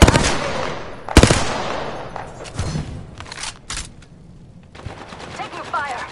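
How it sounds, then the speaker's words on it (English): Gunfire in a PS4 video game, loud sharp shots at the start and scattered bursts after, fading to quieter fire, with game sounds layered underneath. "Taking fire."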